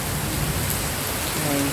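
Heavy rain falls in an even, unbroken wash of noise, with a faint voice murmuring briefly beneath the downpour.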